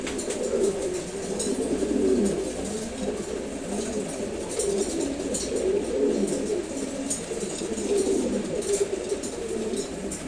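Pair of red checkered pigeons cooing close by in low, rolling throaty coos that repeat in waves across the whole stretch, with no talk.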